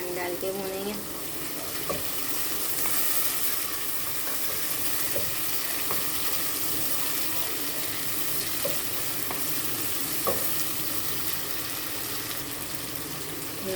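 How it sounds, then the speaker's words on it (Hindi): Garlic ginger paste fries with a little water in a pan, giving a steady soft sizzle, with occasional stirring clicks and scrapes throughout. "लहसुन अदरक के पेस्ट को हम ज़रा सा पानी डाल के भूनेंगे।"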